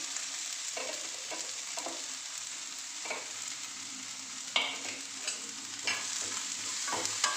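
Dried lotte fish (shutki) sizzles in a hot pan, with a steady hiss and scattered scraping clicks from a spatula stirring it. The sound is close and moderately quiet.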